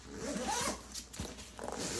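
A zipper is pulled closed on a travel backpack, heard up close as a few quick rasping strokes with brief pauses between them.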